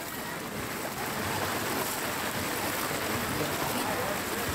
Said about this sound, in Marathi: मुसळधार पावसामुळे नदीची पाणी पातळी वाढली आहे, त्यामुळे नदीचं पाणी अगदी गावात शिरतंय